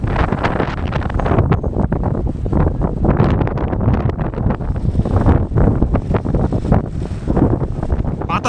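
Strong wind of a dust storm sweeping across the dry-season haor wetland near the Dhanu River in Kishoreganj, roaring and buffeting the microphone continuously and loudly throughout, with no speech.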